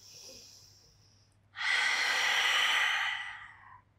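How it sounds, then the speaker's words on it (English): One long, breathy exhale during a Pilates spine mobility exercise, close and soft, swelling after a quieter intake of breath and fading out. "just breathe in and breathe out"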